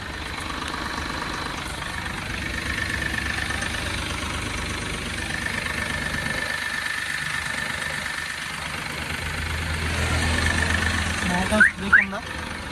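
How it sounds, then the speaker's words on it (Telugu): The diesel engine of a 2017 Mahindra KUV100 K4 SUV idles with a steady, low rumble evenly throughout, with a few sharp clicks and knocks near the end. "ఇంజన్ కూడా చాలా స్మూత్ ఉంది నాయిస్ లేదు"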